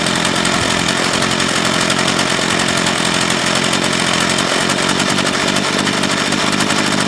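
Craftsman 19-inch 25cc gas hedge trimmer, fitted with a new carburetor, runs steadily and loud with a raspy two-stroke buzz that holds even throughout, with no talk.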